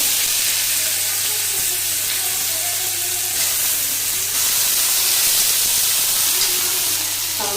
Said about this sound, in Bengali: তেল গরম হয়ে গেছে তাহলে আমি আলুগুলো ভেজে নেব